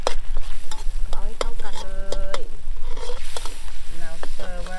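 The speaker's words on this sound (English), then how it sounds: "It's on medium heat, yeah? Medium heat, yeah. Okay, we're just reducing the sauce." Thai fish red curry sauce reducing in a pan over medium heat, with a steady bubbling sizzle and spoon-stirring scrapes, punctuated by a few short tonal voice or utensil sounds throughout.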